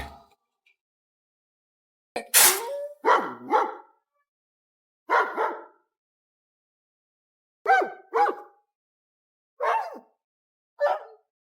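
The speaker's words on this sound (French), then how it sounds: "Les chiens." Dogs barking in short bursts of two or three barks, separated by silent pauses, fairly close and clear, with no voices.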